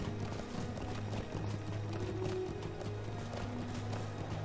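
Horse hooves clip-clop steadily in the online role-playing game Lord of the Rings Online on the plains of Rohan, a continuous trotting rhythm over a dense, rumbling ambient backdrop.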